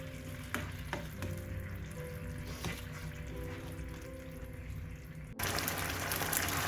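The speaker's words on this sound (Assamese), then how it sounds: "এইখিনি বইল হৈ গৈছে ধুনীয়াকৈ" Tomato ketchup and vinegar sauce for gobi manchurian bubbles and sizzles steadily in a pan on a gas flame, a close, continuous crackle that turns louder and denser near the end.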